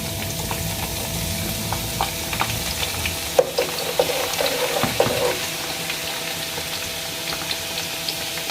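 Garlic fries in a little hot ghee in a kadhai, a steady low crackle and sizzle with occasional stirring clatters and scrapes, close by and moderately quiet, with no talking.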